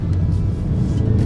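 A 2024 Range Rover SV First Edition engine pulls hard while overtaking on the road, a loud, deep, steady drone heard from inside the cabin for about a second.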